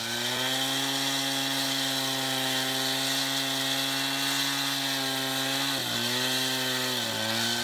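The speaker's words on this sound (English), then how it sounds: "So we're cutting that concrete, and Matt's doing a nice job up there." A concrete saw cuts a curved line through a concrete curb for a drain, its engine a loud, steady, high-pitched whine that holds throughout, with two brief dips in pitch near the end as the blade bogs.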